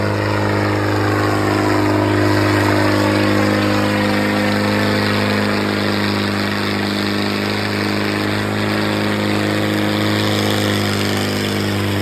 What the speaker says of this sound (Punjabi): ਫੋਰਡ ਆ ਗਿਆ ਜੀ 4 ਸਿਲੰਡਰ ਫੁੱਲ ਮੋਡੀਫਾਈ ਕੀਤਾ ਗਿਆ ਟਰੈਕਟਰ